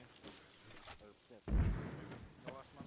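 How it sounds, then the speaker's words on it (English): A single mortar round fires with a deep, muffled thump in an Arma 3 co-op military session, a low rumble trailing off while players talk over radio. "Mortar's gone out"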